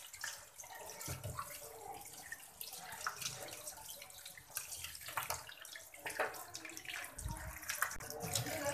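Rohu fish is rinsed under a running tap, with water splashing and trickling into a sink, uneven and close, broken by soft handling knocks, and no voices.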